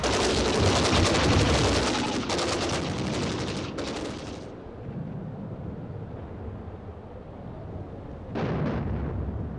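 Dense rattling bursts of machine gun fire on a World War I battlefield, a loud rapid barrage that abruptly stops, leaving rumbling echoes before another short volley breaks out near the end.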